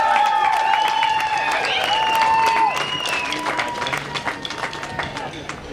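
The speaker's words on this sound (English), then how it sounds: "Let's give another big round of applause" A community day crowd applauds and cheers for its newly named Queen and King, with loud sustained clapping, whoops and high shouts early on, then steady clapping tapering off near the end.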